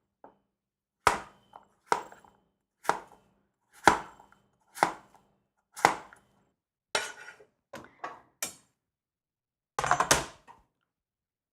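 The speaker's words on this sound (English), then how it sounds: "So I'm going to cut these up into fairly small squares." A knife chops potatoes into small squares on a cutting board: about a dozen sharp, distinct knocks spaced roughly a second apart, close and crisp against near silence, with a quick double chop near the end.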